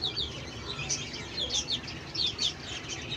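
Week-old chicks peep and chirp in quick, high bursts, several calls overlapping at a moderate distance over faint background noise.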